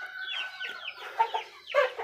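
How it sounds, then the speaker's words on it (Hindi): An Aseel rooster gives a short burst of clucking calls and a partial crow, close and fairly clear, with several rising squawky notes over about two seconds and no talking. "ये एक दोस्त का मुर्गा है"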